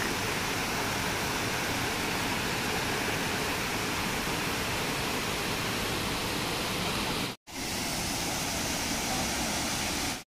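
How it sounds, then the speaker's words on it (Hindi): The Dhankada waterfall near Wilson Hill in Dharampur roars as a dense, unbroken rush of falling water, loud and close, with a brief cut near the end and no talking. "आप एक बार सुनिए वाटरफॉल का साउंड कैसा लग रहा है"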